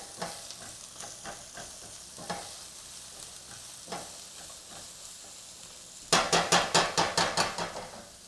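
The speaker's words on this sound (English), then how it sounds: "So we'll get that onion going." Onion frying in a pan gives a soft steady sizzle, broken by occasional spatula scrapes and taps, then a quick run of about eight sharp metallic knocks near the end.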